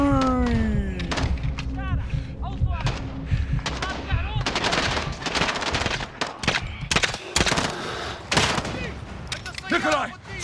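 Bursts of automatic rifle fire and single gunshots crack repeatedly in Call of Duty: Modern Warfare (2019), close and loud, interleaved with thuds and voices talking over the combat.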